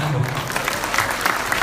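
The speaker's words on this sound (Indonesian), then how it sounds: "Tepuk tangan, Bu." Seminar audience applauding, a brief, even spatter of clapping at moderate loudness with a low hum underneath.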